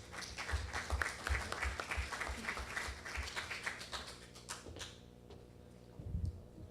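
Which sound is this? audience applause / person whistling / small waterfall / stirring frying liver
audience applause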